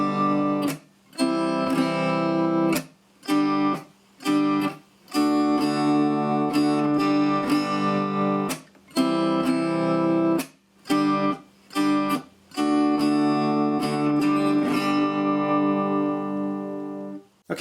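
An electric guitar plays the intro of a song slowly, loud sustained chords broken by short percussive muted strums in an uneven rhythm, solo and close, with no talking.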